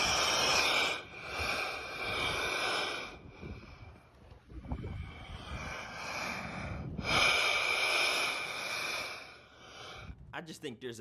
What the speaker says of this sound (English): Waves of the ocean are making these rocks sound like they're breathing.